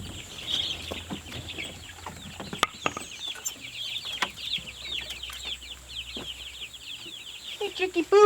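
Farm chickens and young chicks clucking and peeping near an enclosure, a steady busy chorus of high chirps with scattered clucks and a few sharp knocks, no talking.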